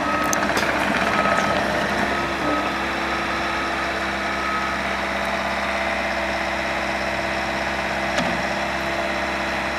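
A 2021 Bobcat T66 skid steer with a 74-horsepower engine runs at a steady idle, a close, even mid-pitched drone with faint reversing beeps over it and no talk.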